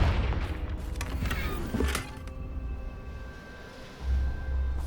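Confringo explosive spell in Hogwarts Legacy: a few sharp magical bursts and a booming thud sound close by over a low rumbling game background, with a brief faint whine after.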